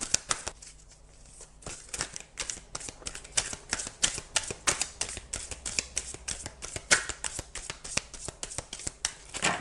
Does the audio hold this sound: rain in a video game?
no